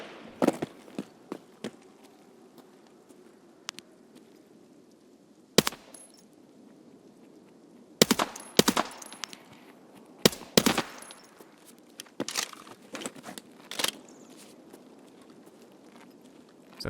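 Enemy gunfire in a video game: sharp shots and short bursts crack out irregularly, some loud and close, others fainter, over a low, quiet ambient bed, with clusters of rapid fire near the middle.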